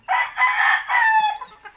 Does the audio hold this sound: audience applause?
no